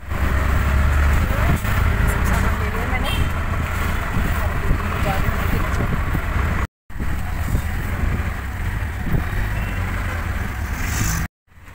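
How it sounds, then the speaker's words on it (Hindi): Loud, steady road traffic and engine rumble on a rainy-season street, with wind buffeting the microphone; the broadband noise runs almost continuously, broken by two brief dropouts. "गाड़ी की आवाज़ इतनी है ना, शोर इतना ज़्यादा आता है"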